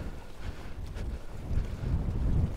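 Strong wind at Stithians Dam buffets the microphone in continuous low rumbling gusts, building louder toward the end, with no voices.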